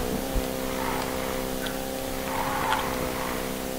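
A Fox Mustang in the video game Need for Speed Payback, a steady droning engine hum at constant revs with a couple of faint clicks, no talking.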